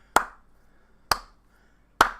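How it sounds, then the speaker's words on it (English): Three slow, deliberate hand claps ring out alone, sharp and close, evenly spaced about a second apart, each with a brief decaying tail. "So I'm just going to slow clap right there."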